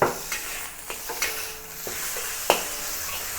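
Crab meat fries in hot oil in a wok, a steady close sizzle broken by several sharp clacks and scrapes of a utensil stirring against the metal, with no talk.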